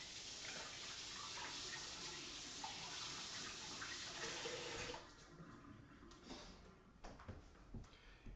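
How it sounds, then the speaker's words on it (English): Tap water runs steadily into a sink while hands are washed in a home kitchen during pizza dough prep, a dense close hiss that cuts off near five seconds, leaving softer splashes and drips. "Next step, wash my hands quick."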